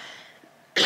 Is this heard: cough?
yes